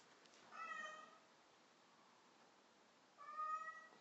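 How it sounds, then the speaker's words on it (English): Two faint, distant cat meows, one near the start and one near the end, separated by quiet room hiss and with no voices. "The cat's going crazy."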